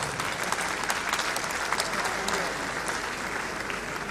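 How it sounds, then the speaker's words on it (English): A large audience at a university graduation ceremony awarding postgraduate diplomas and degrees keeps up dense, steady applause, a wide wash of many hands clapping from some distance and holding level throughout. "Can we sustain the applause?"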